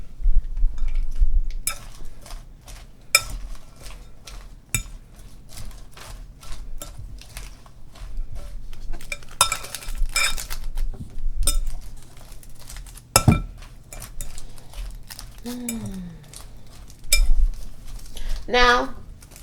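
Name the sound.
stirring Caesar salad in a bowl with utensils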